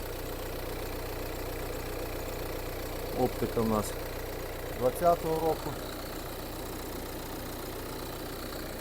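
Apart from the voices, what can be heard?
van engine idling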